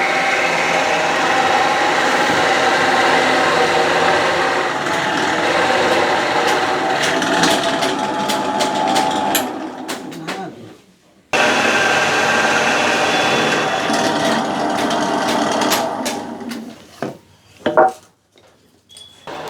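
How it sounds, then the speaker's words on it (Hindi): An electric machine drills a hole through bamboo at an outdoor workshop, a steady loud grinding whir that cuts off briefly, restarts, then ends in a few clattering knocks. "उसको मशीन से उसमें छेद कर रहे हैं"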